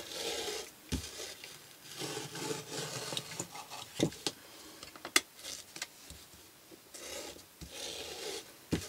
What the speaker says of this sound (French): il faut quand même une lame qui coupe pas trop mal, hein, parce que sinon ça s'arrache